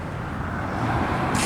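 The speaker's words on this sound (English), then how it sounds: "Sorry about the noise. We're right on the highway." Steady highway traffic roars close by in a continuous low rumble, with no voices over it.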